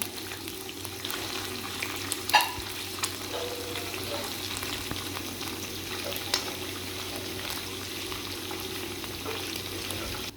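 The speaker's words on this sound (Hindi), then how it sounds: "अब हम इसमें लहसुन अदरक का पेस्ट ब्राउन करेंगे।" Garlic ginger paste frying in a pan for bhuna chicken, giving a steady low sizzle and crackle throughout with a few brief clinks of a utensil and no talking.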